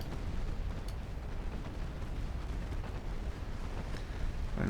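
5-inch naval guns fire in a warship battle game, heard as a continuous low, heavy rumble of booms that blur together at moderate loudness with no quiet gaps.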